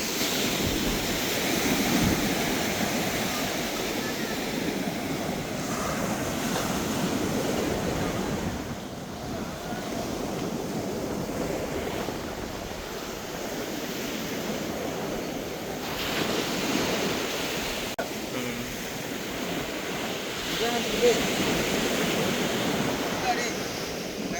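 Surf rolling onto a beach during a seine-net haul, steady broadband wash with strong wind buffeting the microphone, continuous and loud throughout with no clear breaks.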